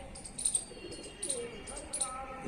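Pigeon chicks make faint, repeated high squeaking calls in short bursts, each lasting about half a second, over a quiet indoor background.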